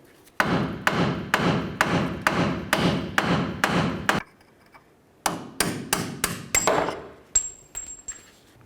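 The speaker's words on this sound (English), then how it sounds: "Use your hammer, give it a couple loving bonks just to break it free." Loud metallic hammer blows strike to break a front axle part free on a Ford Ranger, ringing out in a fast, even series, then stop briefly before a second burst of strikes, one with a ringing overtone.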